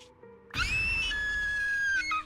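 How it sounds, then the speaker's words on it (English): A shrill scream in a horror scene of the video game Zenless Zone Zero, bursting in abruptly after a quiet moment and sustained loud and piercing for over a second before fading. "That was a nice scream."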